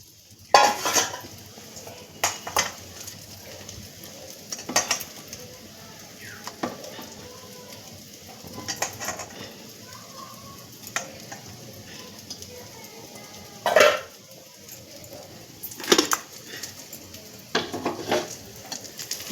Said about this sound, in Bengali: বেগুনটা একটু ফ্রাই করে দেওয়া হচ্ছে।